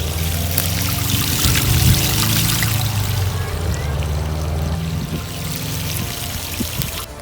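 Water being pumped out of a flooded bunker floor, a steady close pouring and trickling rush with a low mechanical hum beneath, continuous for the whole stretch.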